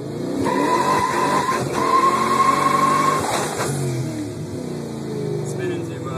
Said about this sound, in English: I didn't get the good burnout while doing another one.